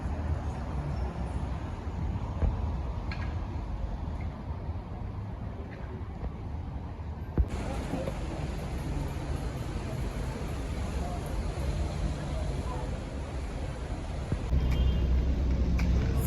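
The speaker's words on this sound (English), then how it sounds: "a Arriva bus had broken down and was getting towed away by one of the tow trucks" A tow truck hauls a broken-down Arriva bus away through town, heard as a continuous, fairly loud wash of engine and road noise with steady traffic rumble and no clear breaks.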